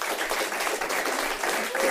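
An audience at a live talk event claps for the guests, steady warm applause filling the room, close and continuous, with a voice briefly over it.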